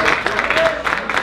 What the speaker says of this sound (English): Let's give the Hard Rock a round of applause for letting us play here tonight